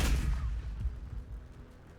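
A deep, booming explosion in the Warhammer 40,000: Battles video game hits loudly at the start and rumbles on, ending with a sharp burst.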